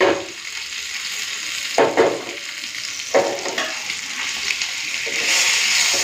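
Tandoori fish fries in a frying pan with a loud, close, continuous sizzle, broken by a few louder bursts as the pieces are moved or turned.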